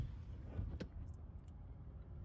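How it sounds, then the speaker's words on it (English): Traffic passes on a road beside a New Jersey Garden State Parkway rest area, a low steady rumble with one brief nearer swell, faint and distant overall. "There's cars going by right here."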